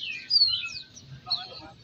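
Magpie robins at a bird market give short, bright chirps and whistled phrases, a couple of quick bursts at moderate distance over low background murmur.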